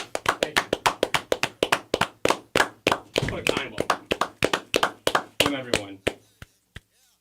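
A small group in a sports talk studio claps roughly in unison, sharp distinct hand claps at a brisk rhythm that thin out and slow to a few scattered final claps, with faint talk underneath.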